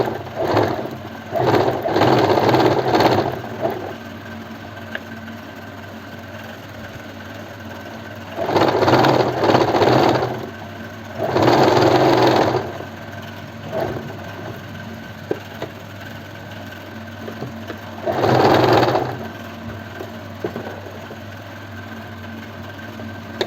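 Sewing machine stitching a kurti collar in short separate runs of a few seconds each, four bursts of busy whirring with quiet gaps between them, close over a low steady background hum.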